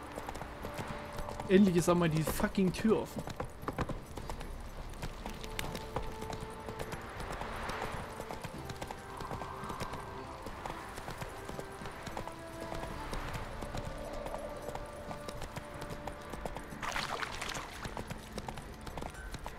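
Horse hooves clip-clop on the ground in The Witcher 3: Wild Hunt, a brief burst of steps early on and then fading under ongoing game dialogue and music, with people speaking German throughout.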